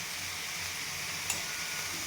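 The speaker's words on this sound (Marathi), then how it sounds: "छान परतून घेतो एकदा" Tomato rice with turmeric and salt sautéing in a pan, a steady soft sizzle with stirring throughout, plus one brief tick near the end; no talking.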